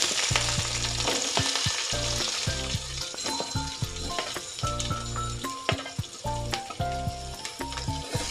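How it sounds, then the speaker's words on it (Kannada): Chopped onions sizzle steadily in hot oil in a pan while cooking a chickpea (kadlekalu) huli sambar, a loud, continuous frying hiss with occasional stirring clatter and no talk. "ಈಗ ಎಣ್ಣೆ ಬಿಸಿಯಾಗಿದೆ. ಈಗ ನಾನು ಈರುಳ್ಳಿಯನ್ನು ಸೇರಿಸ್ತಾ ಇದ್ದೀನಿ."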